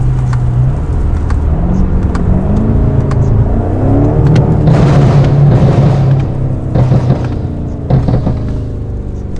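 A 2019 BMW F90 M5 with a custom catback exhaust accelerates through a tunnel, its loud, continuous engine roar climbing in pitch as it revs, with no one talking.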